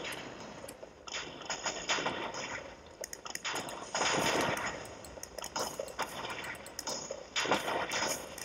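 Bow shots ring out in Minecraft, a rapid series of sharp twangs and thuds, some in quick bursts, loud and close with brief pauses between volleys.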